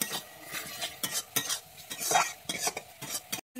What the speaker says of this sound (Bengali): আমি এটাকে এবারে ভালোভাবে কষিয়ে নেবো।